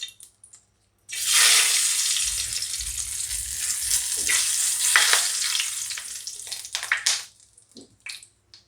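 Pumpkin frying in hot oil with a bay leaf in a home kitchen, a loud steady sizzle that bursts in after a quiet second and crackles for about six seconds before dying down.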